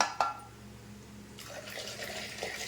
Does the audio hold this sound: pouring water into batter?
yes